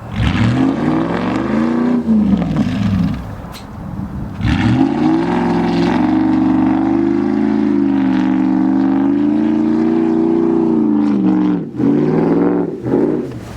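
A stuck truck's engine revs hard while being thrown into reverse, a loud sustained roar that rises and falls in pitch, dips briefly, then surges again with a few sharp bursts near the end.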